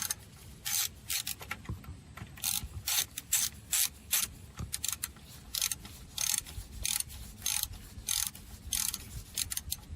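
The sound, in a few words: ratchet snugging down bolt on Infiniti G35 alternator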